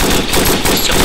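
Dense, continuous automatic gunfire from the WWI shooter Verdun, loud and close, a rapid unbroken burst filling the whole moment with no pause.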